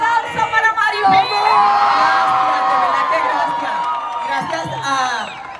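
A hometown crowd in Ponce cheers and applauds for Maripily, a loud swell of shouts, whoops and high children's cries over scattered clapping, rising and then easing off.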